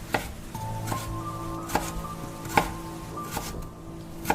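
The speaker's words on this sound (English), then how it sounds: "The chopping sound." Sharp knife chops strike a board in a kitchen late at night, arriving in a slow irregular series of distinct hits over a low steady tonal hum and faint background rain.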